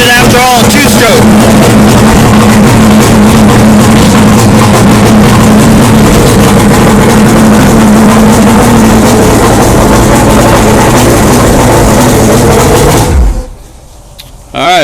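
A two-stroke outboard boat engine with a VRO oil system runs steadily on land, a loud continuous droning roar with low rumble that cuts off abruptly near the end, leaving near silence.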